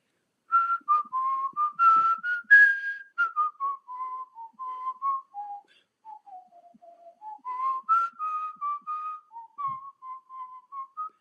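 A person whistles a Les Misérables melody solo and close up, a clear, wavering tune carried in connected phrases with brief breaths between them.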